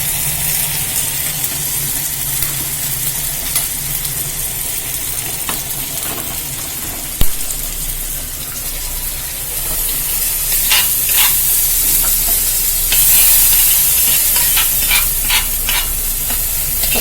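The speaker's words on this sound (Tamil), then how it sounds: "இப்போ நம்ம ஊற்றிக்கலாம் தாளி." Tempering poured into green peas gravy with tomatoes in a pan, a loud continuous sizzle with stirring and a sharp metallic knock partway through, the hissing rising and crackling in bursts later on.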